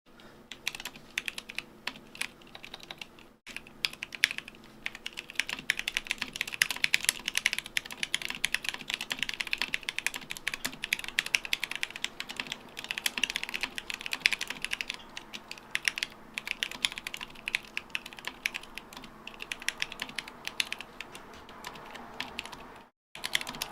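Steady, fast typing on a mechanical keyboard fitted with lubed Zilio switches at 62 grams, a close run of crisp, even keystrokes with brief pauses near the start and end, with no voice.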